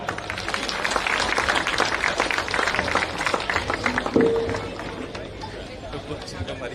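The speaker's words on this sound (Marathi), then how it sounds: "जोरदार टाळ्या होते" Sustained applause from a crowd at a cricket tournament event in Sindhudurg, dense clapping with a voice briefly audible over it.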